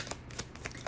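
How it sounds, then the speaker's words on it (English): Half of a tarot card deck being shuffled by hand, a quick series of soft, papery riffles and flicks recorded close up, with no voices over it. "I do have to split this deck in half to be able to shuffle through it"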